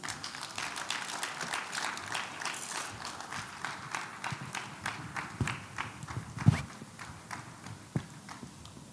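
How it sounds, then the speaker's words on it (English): An audience at a sickle cell foundation blood donation drive and art exhibit keeps clapping after a keynote address, with sparse, distinct claps in a loose, steady rhythm, fairly faint and moderately distant, plus one sharper clap near the end. "I thought we'll keep clapping till she gets her seat"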